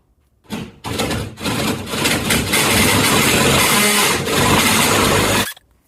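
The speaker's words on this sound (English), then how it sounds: "I'm using this Milwaukee drill set, which is adjustable to different widths to drill the recessed light holes" A Milwaukee power drill with an adjustable hole saw grinds loudly and steadily through a ceiling, cutting recessed light holes, starting and stopping briefly before a long continuous cut.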